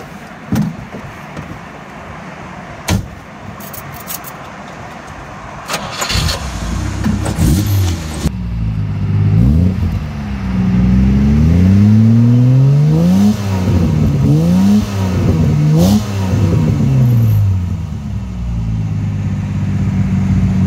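A Jaguar E-Type fitted with a Tourist Trophy exhaust starts with clicks and a door thump, then its engine fires and revs up loudly, rising and falling repeatedly in deep, throaty exhaust sweeps, close and without talk.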